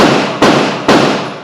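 Two sharp gunshots from a Hi-Point pistol fired outdoors, close and very loud, each followed by a decaying echo, spaced about half a second apart.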